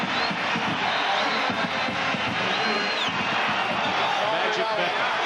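A stadium crowd roars and cheers at a 1995 Syracuse vs Miami college football game, a dense, steady wall of noise under continuous commentary.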